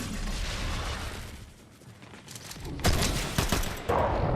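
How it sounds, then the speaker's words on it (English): Gunfire in the Fortnite video game, a dense crackling barrage of shots that briefly eases and then returns sharper and louder, with no talk. "Getting shot at from behind."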